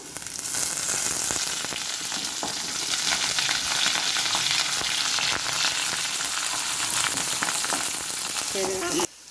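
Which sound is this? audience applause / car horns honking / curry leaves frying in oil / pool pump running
curry leaves frying in oil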